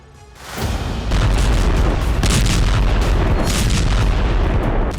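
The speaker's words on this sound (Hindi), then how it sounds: "गाजा में बम बरस रहे हैं।" Heavy, continuous rumbling booms of bombs exploding in Gaza, loud and sustained, with dense low-end roar and repeated blasts layered through the whole stretch.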